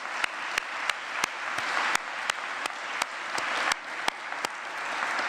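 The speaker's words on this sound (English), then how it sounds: "Please, everyone, offer up a round of applause to these outstanding graduates of Woods College." A graduation ceremony audience at Woods College of Advancing Studies applauds the graduates, a dense, sustained wash of clapping, with sharp periodic clicks cutting through at a steady rhythm.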